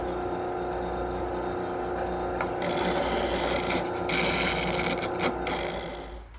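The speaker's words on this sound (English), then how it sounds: "this is just smoothing up the edge so it's nice and smooth" Steady rasping and rubbing against wood as an edge on a vintage riding horse is smoothed, continuous and close, with a machine hum underneath.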